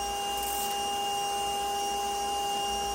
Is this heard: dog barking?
no